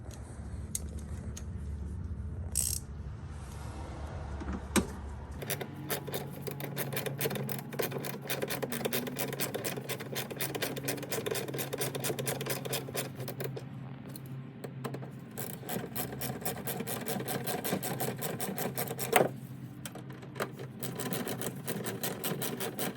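Screws being tightened into a 2006–2011 Honda Civic coupe rear bumper cover with a power tool, giving a steady close whirring and rasping grind that runs for most of the stretch with brief clicks, no talking.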